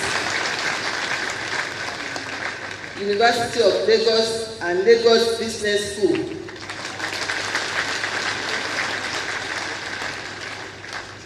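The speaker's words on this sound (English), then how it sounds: "clap if you want to clap, please" Audience applause at a membership induction ceremony, a steady wash of clapping throughout, with an announcer's voice speaking over it in the middle.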